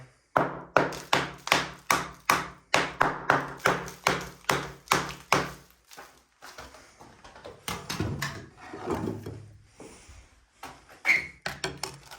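Knuckles tap a hollow, bubbled plaster wall in a 1930s semi-detached house, a quick run of evenly spaced, close, hollow knocks followed by a few scattered bumps and handling sounds.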